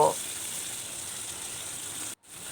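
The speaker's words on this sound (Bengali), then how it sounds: "এখন মিডিয়াম হিটে মশলাগুলো খুব সুন্দরভাবে কষিয়ে নেব" Cumin and coriander powder sauté in oil over medium heat for a mutton and potato curry, a steady, even sizzle holding throughout with a brief dropout near the end.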